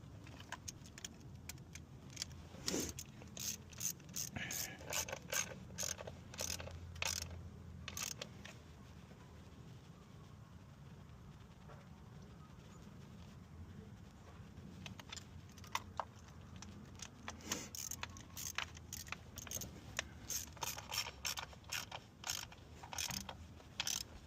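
Ratchet clicking in bursts while tightening valve cover bolts on a 2012 Hyundai Genesis 2.0T, with metallic clinks and tool handling throughout, close and moderately quiet, no talking.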